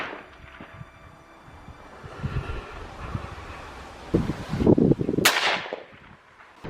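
A hunter's single gunshot fired in a misty forest valley cracks out sharply and decays quickly, following steady wind noise and rustling with a few scattered thumps.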